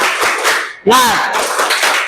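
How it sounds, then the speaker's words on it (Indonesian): A group performs the 'tepuk semangat' spirit clap, with a rhythmic run of claps mixed with voices calling out at close range. "Tepuk semangat."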